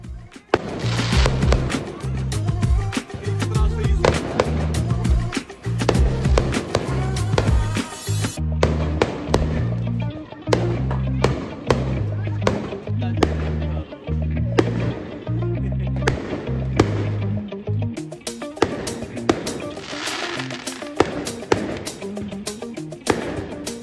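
Strings of firecrackers go off at a Gurupurab celebration, a loud, dense rattle of rapid cracks and pops that runs almost without a break for over twenty seconds, with a short lull near the end before the crackling resumes.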